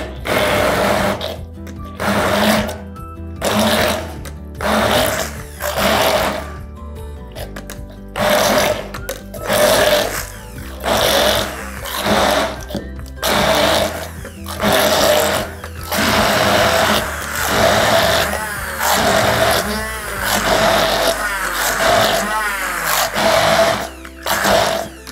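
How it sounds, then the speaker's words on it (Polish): A loud electric blender whirs in repeated pulses, blending a mazurek cake filling with grated apple, starting and stopping in bursts over a long stretch, with brief pauses between runs. "Całość blenderem. Kilka minut."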